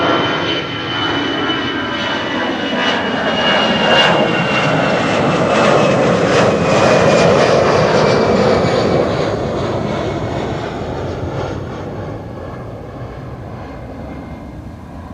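An EasyJet Airbus A319 jet bound for London Luton moves past at Amsterdam Schiphol Airport, its engine roar building to a loud peak midway and then slowly fading, with no voices.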